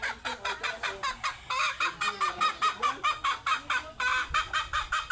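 A flock of hens clucking close by in a rapid, rhythmic series of calls, loud and continuous with overlapping voices and no speech.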